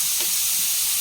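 Sliced onions sautéing in a hot pan with salt while cooking a chicken roast, a continuous loud close sizzle with a faint stirring scrape, alone without talk.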